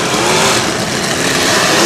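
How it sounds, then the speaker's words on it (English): Race cars throttle hard around a track. Their engines blend into one loud, continuous roar with no pauses. "These guys are throttling."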